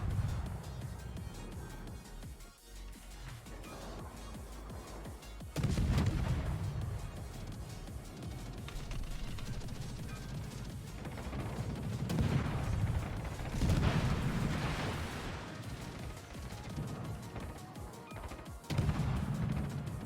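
Naval gunfire in the World of Warships video game, with a Tier V European destroyer HSwMS Visby engaging the Texas: heavy booming salvos and crashing impacts recur over a rumbling mechanical background, moderately loud throughout.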